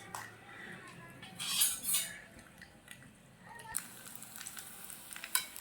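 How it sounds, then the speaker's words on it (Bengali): Miniature puris for fuchka go into hot oil one at a time, with a sizzle under clinks and scrapes of a spoon against the pan, plus a few louder bursts as each one lands. "চলো এবার একটা একটা করে ভেজে নেব।"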